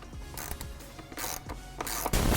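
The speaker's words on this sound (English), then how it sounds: "Remove the two 10mm bolts that secure the coolant expansion tank." A ratchet wrench clicks as it turns the 10mm bolts holding a car's coolant expansion tank, in short metallic bursts close to the microphone, with no talking.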